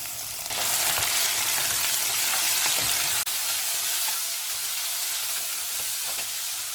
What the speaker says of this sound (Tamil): கருவேப்பிலை சேர்த்து நல்லா வதக்கணும்